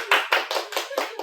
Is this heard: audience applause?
yes